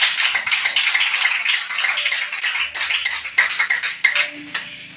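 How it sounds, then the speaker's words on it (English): An audience applauds at a church gathering, dense and loud steady hand clapping lasting several seconds before thinning out at the end. "Let's give them a round of applause."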